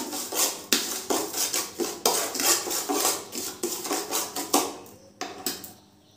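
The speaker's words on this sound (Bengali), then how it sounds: "এবার চিনিটা লেবু রসের সঙ্গে মিশিয়ে নিচ্ছি, ভালো করে মিশিয়ে নিলাম।" A spoon stirs and scrapes sugar with lemon juice in a bowl, producing a close, steady series of rhythmic clinking strokes that slow and thin out toward the end.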